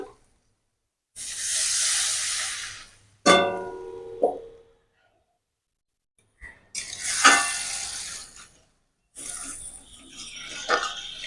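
Water splashed into a hot pan of spicy egg poach curry, bursts of loud hissing sizzle separated by silences, close, with brief clattering in between and no talk.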